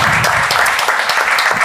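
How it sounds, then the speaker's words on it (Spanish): Loud, close audience applause at a live art event in Lunares Pimpi, dense steady clapping filling the whole moment without a break. "ahora quiero que le deis un fuerte aplauso a Miguel Ángel Crea Artist"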